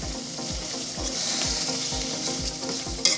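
Steady hissing sizzle of galangal, bay leaves and bruised lemongrass frying over normal heat in a pan for sambal goreng terasi, with regular scraping strokes of a spatula stirring throughout and a clink near the end.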